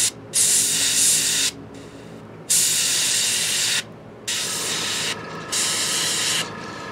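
An airbrush sprays skin-tone paint onto a miniature Hill Giant figure in four loud hissing bursts of a second or more each, separated by brief pauses under a steady background hum, heard up close.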